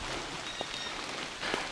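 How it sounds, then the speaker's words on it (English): Light rain patters steadily on an island in Maine, a soft continuous hiss with a few faint droplet ticks, no voices heard. "Rain is starting to sprinkle down through a little bit."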